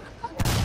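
A .50 calibre gun firing in the War Thunder video game, bursting in suddenly after a low hum and holding as a loud, dense roar of rapid shots.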